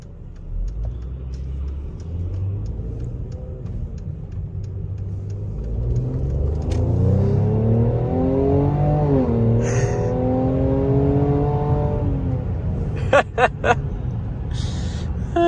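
A Mercedes-AMG GLE43 in sport mode accelerates hard from inside the cabin, its engine note rising through the gears in a swelling, rumbling pitch sweep, with a brief shift dip near the end.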